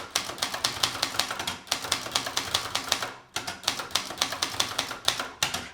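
Typing on a German typewriter, with fast runs of loud, close mechanical key strikes in a steady rhythm, broken by brief pauses between bursts, and no speech.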